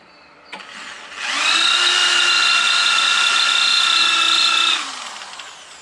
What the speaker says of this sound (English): Oh, the drill bit's starting to get blunt.